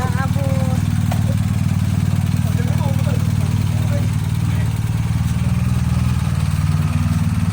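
Motorcycles idle and rev close by in a low, steady engine drone that runs throughout, with a few faint higher tones on top.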